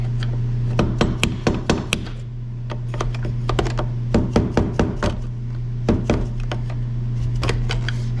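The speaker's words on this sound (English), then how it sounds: "I've never had to hit with a hammer before, but this thing is tight." Repeated sharp hammer blows strike a tight, stuck upper radiator hose on a 6.4 Powerstroke diesel in uneven bursts, loud and close, with short pauses between clusters of hits.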